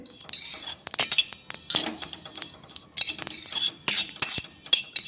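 Sesame seeds being dry-roasted in a pan over low heat, heard as repeated scraping and clinking strokes of a spoon against metal in irregular bursts, close and clear, no speech.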